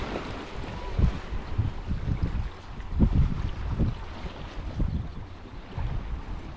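A low, rumbling engine drone from a passing boat near Penmon, Anglesey, mixed with gusts of wind buffeting the microphone and the wash of waves.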